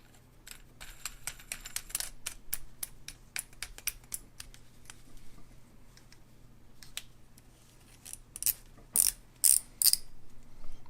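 Rapid clicking of the clicker on a KastKing WhiteMax baitcast reel, an irregular run of small ratcheting ticks close by, getting louder and sharper near the end, with no talking.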